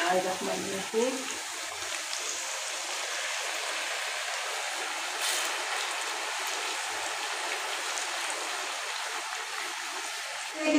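Chicken fries in a pot for a village-style curry, giving a steady, close, crackling sizzle like light rain that carries on evenly throughout with no talk.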